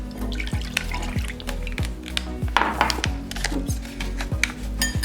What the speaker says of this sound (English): the first thing we're going to do is mix our maizena with 1 cup of cold milk